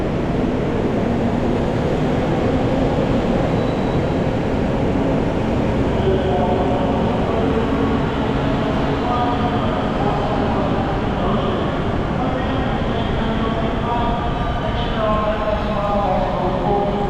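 The Disneyland Resort Mickey and Friends tram rolls along on a rainy day, a steady, loud, low rumble of wheels and motor lasting throughout, with faint voices and tonal whines in the background.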